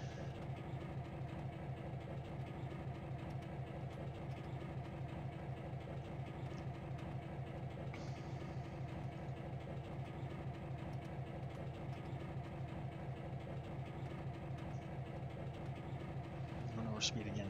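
Simulated train running in the Trainz railroad game, a steady low engine drone and rolling rail rumble continuing evenly throughout, with a brief faint tone near the end.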